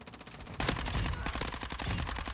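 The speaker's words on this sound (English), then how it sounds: "let me call in the Overwatch helo" Overwatch helicopter gunfire in the Modern Warfare 2 video game: rapid, continuous automatic bursts rattling loudly and close, a dense run of shots with a brief lull before resuming.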